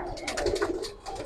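Pigeons in a loft give a short run of soft throaty coos, close by and fairly quiet, with no talk over them.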